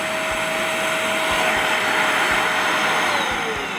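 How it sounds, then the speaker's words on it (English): A vacuum cleaner runs steadily with a loud, constant whine and airy rush, punctuated by faint low thumps, while cleaning a Honda Civic Type R FN2 car interior. "so when the hoover's on"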